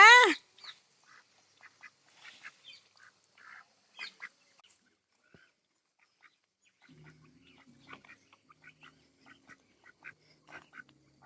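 Mani ducks, a breed that hatches its own eggs, give scattered soft quacks and murmuring calls at a distance, beginning with one sharp loud call, then turning faint and intermittent over a quiet background.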